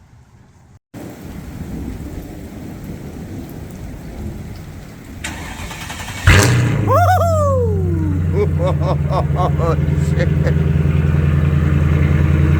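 A Mercedes SL R230 with a 5.0 V8 and loud exhaust fires up from cold in the rain, bursting into a deep, loud rumble that settles into a steady burbling idle, after steady rainfall and a brief startled exclamation from a bystander.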